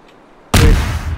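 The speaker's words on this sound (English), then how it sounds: "Explosions are so much fun!" A sudden loud explosion in the Garry's Mod sandbox game, a single sharp boom that cuts in after near silence and rolls off into a lingering roar.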